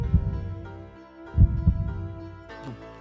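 Heartbeat sound effect in a Tell-Tale Heart comic dub: low, soft thumping beats in pairs, muffled and steady, with a faint droning hum underneath and no talk.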